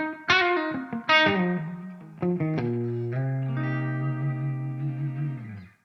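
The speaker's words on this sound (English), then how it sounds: "we've got a reverb on board as well, which you're hearing." Clean electric guitar through an EVH 5150 Iconic Series amp, chords and single notes ringing out with a lush digital reverb tail, a few strums then a long sustained chord fading away.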